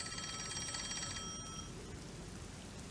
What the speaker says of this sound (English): We can hear the phone from outside of it.